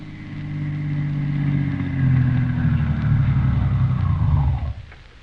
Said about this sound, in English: Dr. Christian and Roy Davis, the druggist, in the doctor's car drawing up in front of Wendy Smith's house.